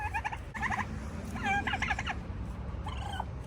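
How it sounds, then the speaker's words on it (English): A farm turkey gobbles in several short, rattling bursts over a low, steady rumble of outdoor background noise, with the calls fairly close and moderately loud. "Even though she's a turkey, we'll keep her around."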